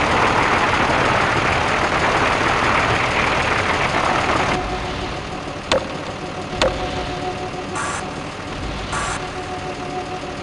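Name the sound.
tank engine running in video game Gunman Chronicles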